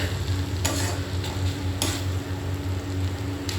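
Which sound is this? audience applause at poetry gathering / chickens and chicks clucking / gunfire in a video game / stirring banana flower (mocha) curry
stirring banana flower (mocha) curry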